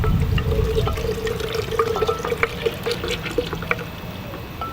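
Honey sugar syrup pours into a container of fresh lemon juice for lemonade, a steady liquid trickle with small drips and splashes, close and alone.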